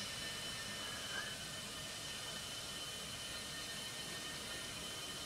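An aircraft taxis toward the runway in the Roblox game Aeronautica, producing a steady, even jet-engine roar that holds at one level throughout, with no voices.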